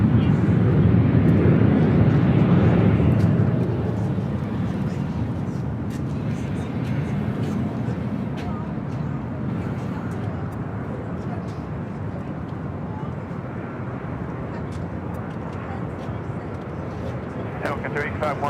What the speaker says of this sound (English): We're doing the United Dreamliner coming in from Shanghai